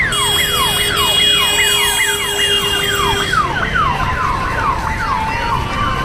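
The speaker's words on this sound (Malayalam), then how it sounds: "ബാക്കിൽ ആംബുലൻസ് സൗണ്ട് ഉണ്ടാകുന്നുണ്ടല്ലോ" An ambulance siren wails in rapid repeating sweeps, loud and close, with its tone shifting partway through, over steady traffic noise.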